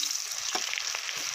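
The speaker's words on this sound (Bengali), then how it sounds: "প্রথমে করলাটা ভেজে নিচ্ছি।" Bitter gourd sizzles in mustard oil in a wok, a soft, steady crackling fry with a few light stirring taps, heard close and alone.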